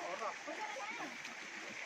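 River water flows steadily on a river-climbing trek toward Kupang Falls, a faint, continuous rushing heard at a distance with no other clear sounds.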